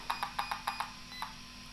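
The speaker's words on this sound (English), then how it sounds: "you hear the beeps repeatedly" A Kyosho Mad Van VE electronic speed controller beeps during calibration, a series of short, evenly spaced electronic bleeps, about six quick ones followed by a pause and one more, clear and fairly quiet.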